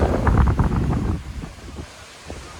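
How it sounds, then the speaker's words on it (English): Strong coastal wind at Point Judith on Narragansett Bay, Rhode Island, buffets the microphone in loud rumbling gusts that ease off toward the end, with no voices. "Oh, it is windy."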